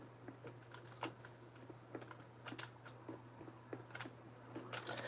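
Computer keys click irregularly while playing Roblox, close and quiet, a scattered run of taps over a low steady electrical hum.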